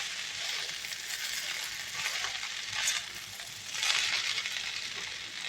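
Hakka noodles sizzle steadily while frying in a pan, with two swells of scraping and stirring that grow louder for a moment and then ease back into the constant hiss.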